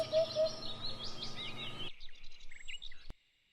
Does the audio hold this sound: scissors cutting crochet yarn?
no